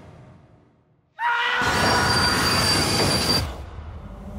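A train on rails, quiet rumble at first, then a sudden loud burst of wheels squealing and grinding that holds for about two seconds before easing back to a lower running rumble. No voices.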